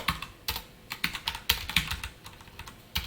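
Code being typed on a computer keyboard during a Python programming lesson: a quick, close run of clicky keystrokes in uneven bursts, with no talk.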